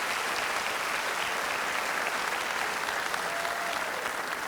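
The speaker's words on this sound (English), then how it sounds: "just go ahead and clap for me right quick so we can get a sense" Broad, steady applause from a large audience fills a school district convocation hall, sustained and dense without pause, heard from within the crowd.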